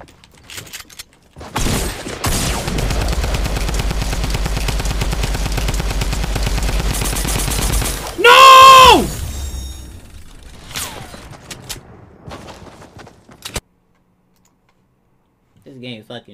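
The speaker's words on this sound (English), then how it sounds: "And then I pull out my AR, and then I shoot the wall." Rapid sustained assault rifle fire in Fortnite, a loud continuous stream of shots for several seconds, followed by a sharp burst of building and impact noises and scattered clicks before falling silent.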